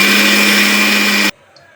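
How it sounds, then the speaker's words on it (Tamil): A kitchen mixer grinder whirs loudly and steadily while grinding roasted black urad dal into powder for kali, then cuts off abruptly into near silence. "உளுந்து வறுத்ததை நாங்கள் இப்போது மிக்சியில் போட்டு நல்லா மெய்ய பொடி பண்ணி வைக்க போகணும்."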